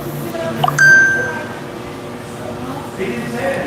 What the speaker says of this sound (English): Oh, I got a text message for Kamala Harris.